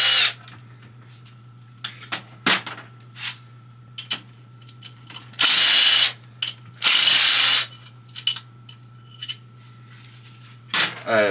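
An impact gun loosens the bolts on the engine cover of a GY6 scooter motor in a workshop, giving two loud buzzing bursts among scattered metallic clicks and clinks of tools and parts, with a steady low hum underneath.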